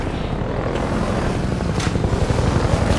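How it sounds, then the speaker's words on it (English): A helicopter in the video game Half-Life 2 gives a steady, loud rotor-and-engine rumble that holds throughout without a break. "And that's a fucking chopper."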